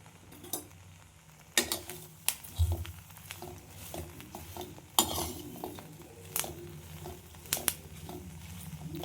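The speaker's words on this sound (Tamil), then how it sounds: "இப்போ பார்த்தீங்கன்னா கருவேப்பிலை ஓரளவுக்கு நல்லா வதங்கிடுச்சு" Curry leaves are stirred in a pan for a curry leaves chicken curry. A spoon clinks and scrapes against the metal in irregular bursts over a faint, soft sizzle.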